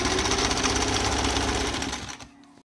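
A sewing machine runs steadily, stitching the front of a designer front-open jacket, its fast, even mechanical whir loud and close before slowing and stopping near the end.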